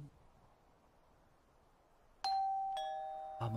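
A doorbell chime from the Wii horror game Ju-on: The Grudge rings out sharply three times in quick succession, breaking a hushed, murky ambient background with bright, ringing tones that hang and decay.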